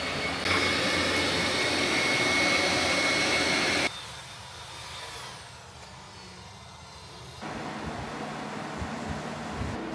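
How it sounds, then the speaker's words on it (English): A vacuum blower drying a freshly washed sofa indoors, a loud steady whining roar that abruptly drops to a lower, quieter hum partway through and then rises slightly again. "they have to leave this vacuum blower thing overnight until tomorrow because the sofa's still wet from the washing"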